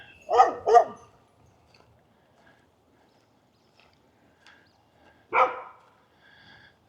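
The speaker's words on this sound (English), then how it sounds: "That dog's not too happy that I'm here." A dog at a state park trail near Columbia, South Carolina barks twice in quick succession, then once more after a pause, fairly close and loud against an otherwise quiet background.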